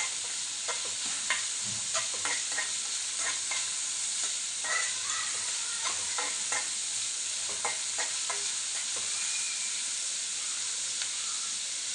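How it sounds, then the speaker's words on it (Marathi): Onions sauté in a pan for a dried bombil chutney, giving a soft, continuous sizzle with a steady hiss. Repeated light scrapes and taps of a spatula stirring run through the whole stretch, with no voice. "आता व्यवस्थित आपल्याला परतून घ्यायचं आहे दोन ते तीन मिनटं लालसर झालं की आपण टॅमेटो ॲड करू"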